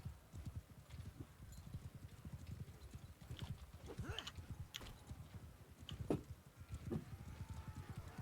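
Cavalry horses gallop across a video game battlefield in steady clip-clop hoofbeats, moderately loud and continuous, with scattered clashes and a faint whinny over the running rhythm.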